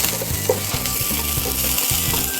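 Food fries in a pan with a continuous, close crackling sizzle over a low background hum, and no one speaks.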